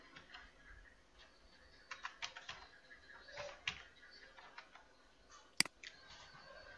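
Fingers tap out a date of birth on a computer keyboard while filling in an online passport application, a faint, sparse run of light clicking keystrokes with one sharper click near the end.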